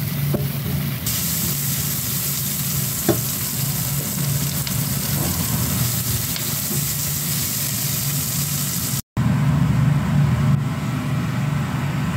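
Garlic frying in a pan, a steady, low, close sizzle running throughout with a couple of faint clicks and a brief dropout near the end.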